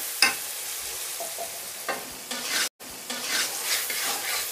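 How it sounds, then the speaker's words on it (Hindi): Ground garam masala, dry coriander and crushed cumin frying with tomatoes for chicken biryani, a steady close sizzle with brief scraping stirs and one short break in the sound. "और इसको मैं अच्छे तरीके से अब भून लूंगी।"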